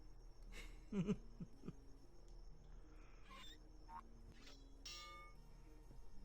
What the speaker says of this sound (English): Can you ring that bell?